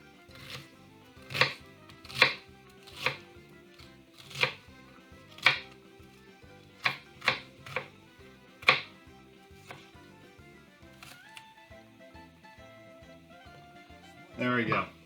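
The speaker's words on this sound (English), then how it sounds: "So I'm just going to get ready to dice that up" A knife dices onion on a cutting board in a home kitchen while cooking Italian greens and beans: about a dozen crisp, close chops in an uneven rhythm, followed by a brief sizzle at the end.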